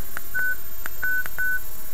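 Phone keypad tones from a mobile handset, a series of about six short, clean electronic beeps in an irregular rhythm, close and clear, over a faint steady background hiss, with no speech.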